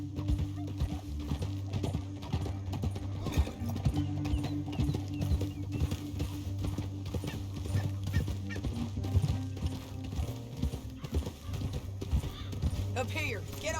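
Horse hooves clip-clopping at a steady pace in Red Dead Redemption 2, a continuous close rhythm of hoof falls with an occasional whinny, under game dialogue and a droning music bed.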